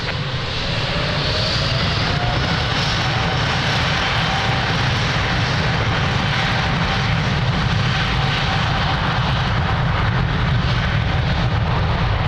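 An airliner takes off from runway 02 at Lisbon Airport, a loud continuous jet roar holding steady throughout with a faint rising whine, no voices.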